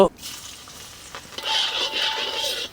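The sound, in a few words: garlic cloves frying in oil in a kadai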